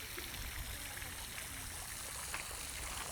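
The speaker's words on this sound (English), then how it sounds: "Got this nice little fountain right here." A small fountain at Schönbrunn Palace in Vienna trickles and splashes continuously, a faint, steady watery babble heard outdoors with no voices.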